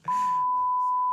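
A steady, loud electronic censor bleep covers a name during podcast chatter, beginning just after a short voice fragment and holding as one unbroken tone.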